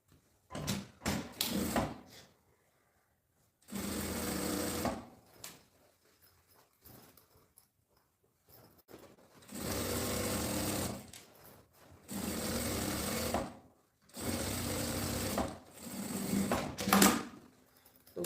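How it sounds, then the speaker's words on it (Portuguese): A sewing machine stitches along the bottom edge of a fabric piece to hold its lining in place, running in several steady whirring bursts separated by short pauses, close and with no talking. "Vou também passar uma costura na beiradinha do fundo para poder segurar"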